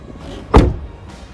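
An MG Hector SUV door is pulled shut with a single solid, close thud, surrounded by quiet.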